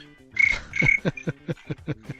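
A human voice mimics chirping crickets, a pair of longer buzzy trills followed by a quick run of short clicking chirps, close and clear with no other sounds.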